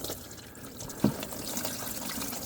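Coolant water drains from the underside of a BMW i8 with a suspected head gasket fault, a steady close trickle and splash running continuously with one brief louder splash.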